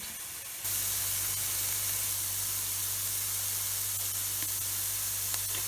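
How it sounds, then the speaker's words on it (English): Liquid poured into a hot pan while making Jägersoße sizzles loudly and evenly. A steady, close hiss kicks in sharply after a brief pause and keeps going. "Wait for the crackling sound."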